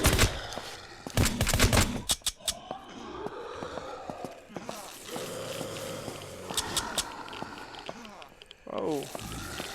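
Pistol gunfire in the SurrounDead zombie video game: sharp, separate shots in irregular bursts, some loud and close, over a faint background of game noise.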